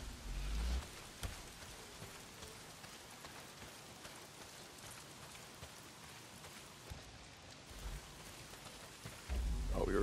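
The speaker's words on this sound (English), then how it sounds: "Well, not if it's pissing down rain." Steady rain hisses down across an outdoor scene in the video game Days Gone, a dense continuous patter with a few soft low rumbles at the start and end.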